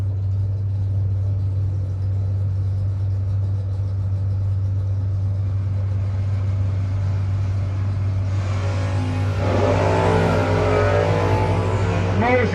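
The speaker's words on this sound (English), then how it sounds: "Mosier down 529 in the Vega Wagon up against Falcone's good looking 69 Camaro." A Vega Wagon and a 1969 Camaro at a no-box drag racing shootout: a steady low engine rumble idles, then surges loudly into a roaring, revving launch near the end.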